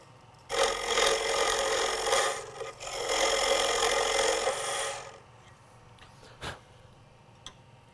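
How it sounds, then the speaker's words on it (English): A lathe tool scrapes through turned wood into the MDF backing while shaping a gimbal clock, a steady raspy cutting noise for several seconds before it stops, leaving a quiet room with a single knock. "You can actually hear and feel when you break through to the MDF."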